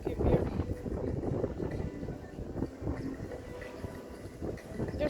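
Outdoor wind buffets the microphone as a steady low rumble with gusty swells throughout, under occasional soft speech, by the water where a one-legged seagull is being fed.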